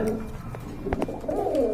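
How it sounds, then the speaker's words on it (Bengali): A male pigeon calls outside near a nesting pair, giving a few low, soft coos at moderate distance against faint background noise. "যে বাইরে ডাকাডাকি করতেছে এটা নর"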